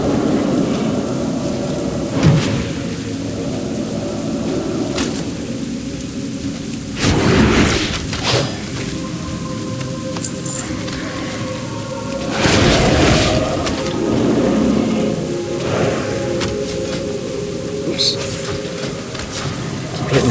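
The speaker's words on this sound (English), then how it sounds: "when did this rain start?" Steady rain hisses throughout with several deep rumbles of thunder rolling in, the loudest around the middle, while a person talks intermittently over it, in the video game World of Warcraft.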